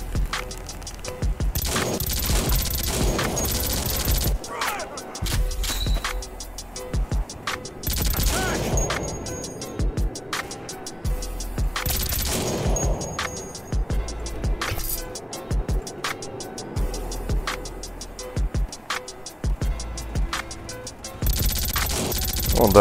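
Gunfire in a shooter video game, with dense bursts of shots and sharp cracks repeating across the stretch, loud and close, mixed with game background sound and no talk over it.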